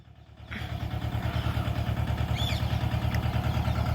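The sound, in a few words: tractor engine running as it arrives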